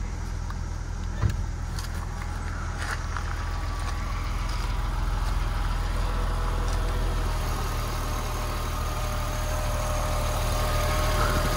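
A 2005 Porsche 911 of the 997.1 generation idles steadily with a smooth, even engine hum and low rumble that holds unchanged throughout, heard alone at close range with no talking.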